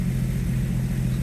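A Jeep Wrangler with a suspected rod knock idles close by, its engine giving a steady, quiet low rumble with an even pulse and no voices.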